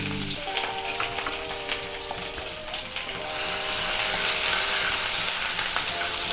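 Ginger garlic paste sizzles in hot oil, a steady crackling hiss close by that swells louder and fuller about halfway through, with a faint tonal hum underneath.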